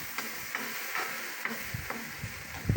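Pork meat frying in a pan for pinakbet with garlic, a steady close sizzle with intermittent scraping stirs and a few clacks near the end.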